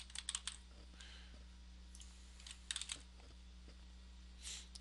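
Faint clicks of a computer keyboard as a password is typed, a few quick bursts of keystrokes separated by pauses over a low steady electrical hum.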